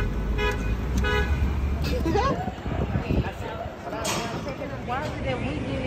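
Car horns toot repeatedly in street traffic, with short honks rising over a steady rumble of engines and crowd chatter, and voices talking throughout.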